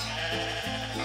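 A sheep or lamb bleats once, a wavering nasal cry sustained across the whole brief moment, close and fairly clear.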